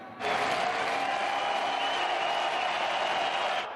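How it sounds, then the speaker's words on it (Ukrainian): A stadium crowd in Warsaw applauds Dnipro's striker at a football match against Sevilla: dense, steady, loud applause that swells in quickly and holds evenly throughout. "Сльози Дніпропетровського нападника підтримують на трибунах аплодисментами"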